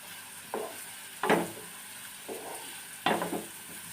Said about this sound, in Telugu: ఆయిల్ హీట్ అయిన తర్వాత కట్ చేసి పెట్టుకున్న ఆనియన్స్ వేస్తున్నాను.